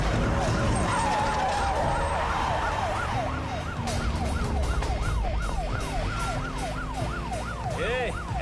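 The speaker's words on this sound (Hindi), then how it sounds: "ये तो पुलिस का सायरन है।" In a Hindi-dubbed South Indian action film scene, an arriving ambulance's siren wails in a loud, rapid up-and-down sweep that repeats steadily over vehicle rumble and background music.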